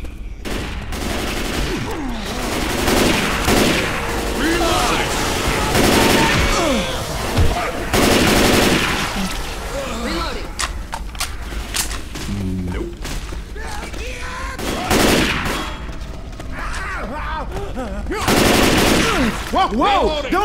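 Gunfire in the zombie shooter Left 4 Dead 2 comes in loud, dense bursts of rapid automatic shots and single cracks with thuds between them, while voices shout over the shooting.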